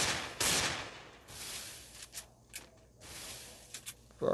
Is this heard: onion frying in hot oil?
no